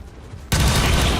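After a quiet moment, a sudden loud burst of weapon fire erupts and continues as sustained gunfire in XCOM 2: War of the Chosen (modded).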